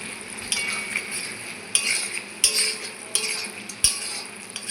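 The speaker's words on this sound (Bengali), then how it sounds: "ভেজে রাখা শুটকি মাছগুলো দিয়ে দেবো দিয়ে দিচ্ছি শুটকি মাছগুলো" Fried dried fish being stirred into a green banana curry in a pan, with a soft sizzle and several sharp scrapes and clinks of a spatula against the metal.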